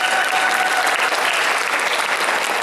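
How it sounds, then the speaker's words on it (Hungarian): An audience at a convention awards ceremony applauds a dance pad contest winner, dense steady clapping from a crowd that fills the whole moment without pause. "Nagy tapsot neki!"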